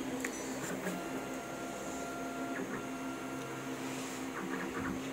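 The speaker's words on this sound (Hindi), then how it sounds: "उसके बाद हम यहाँ पर स्कैन करते हैं, तो ये हम स्कैन तो कर लिए।" A Kyocera TASKalfa 1801 copier runs a scan, giving a steady mechanical hum and whir with a few faint clicks, continuous and fairly loud, with no voices over it.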